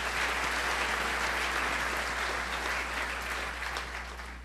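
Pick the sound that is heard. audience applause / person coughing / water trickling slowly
audience applause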